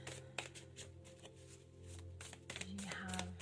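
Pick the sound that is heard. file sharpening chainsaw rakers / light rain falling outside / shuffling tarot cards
shuffling tarot cards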